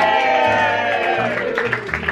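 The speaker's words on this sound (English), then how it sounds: "Big round of applause for Rim" A crowd at a Christmas reunion gathering claps and cheers loudly for about two seconds, dense and close, with whoops, shouts and a low hum running underneath.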